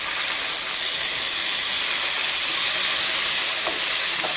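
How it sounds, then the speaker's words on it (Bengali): Tomato dropped into hot oil with cumin, cardamom, cinnamon, peppercorns and a pinch of asafoetida gives a loud, steady hiss and sizzle that runs unbroken throughout. "প্রথমে টমেটো ফোড়ন দিচ্ছি।"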